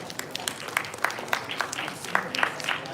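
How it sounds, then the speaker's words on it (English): Moderate audience applause at a law college Model United Nations valedictory award ceremony, a steady wash of clapping with sharper individual claps standing out, and speech faintly present. "I would say the applause could keep going"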